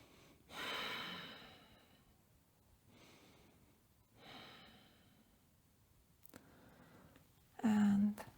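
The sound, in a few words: breathing during a yoga pose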